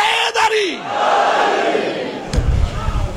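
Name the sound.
crowd chanting responses to religious slogans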